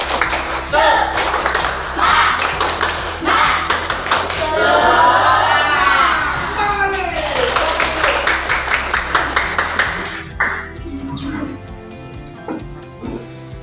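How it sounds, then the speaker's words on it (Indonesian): Classroom of Indonesian students performing a rhythmic group clap chant (tepuk semangat), many hands clapping together in patterned bursts, loud and close, with voices chanting along. "Tepuk semangat."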